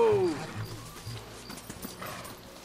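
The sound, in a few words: horse galloping in Red Dead Redemption video game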